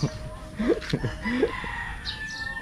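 A rooster crows close by, its rising cock-a-doodle-doo calls standing out over a busy outdoor background with a faint whistle-like tone.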